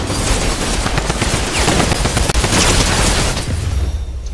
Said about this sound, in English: Yeah, I have a shotgun.